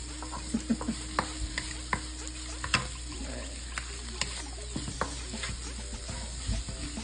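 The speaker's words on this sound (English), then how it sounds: "it's starting to fry the garlic" Garlic frying in a pan for fried rice, with a steady hiss of sizzling oil and repeated scrapes and taps of a utensil stirring, close and continuous throughout.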